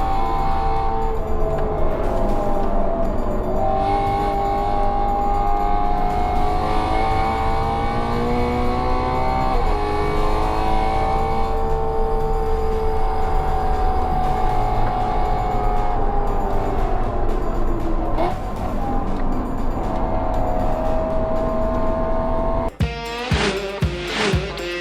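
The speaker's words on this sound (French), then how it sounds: "Voici en images et surtout en son une partie du circuit à bord d'une BMW." Onboard a BMW race car lapping a circuit, the engine drones loud and continuous with rising and falling pitch through gear changes, a sharp break near the end.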